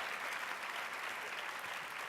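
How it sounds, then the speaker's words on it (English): An audience at a conference event applauds, a dense, steady wash of many clapping hands filling the room without pause, with no voice standing out. "The claps still go."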